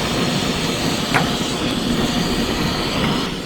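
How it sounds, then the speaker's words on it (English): Steady roaring rush of water boiling on a portable camping stove outdoors, a constant loud hiss with no talking. "That's boiling."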